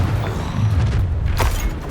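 A heavy booming blast from the Confringo spell in Hogwarts Legacy, a loud low rumble that sustains across the whole moment, with a brief crackle flaring near the end.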